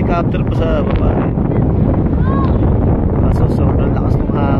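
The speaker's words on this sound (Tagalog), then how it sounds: "sobrang lakas ng hangin" Heavy wind buffets the microphone in a constant loud roar on a high viewpoint in Tagaytay, Philippines, with faint voices and distant high sounds, including a helicopter below, poking through.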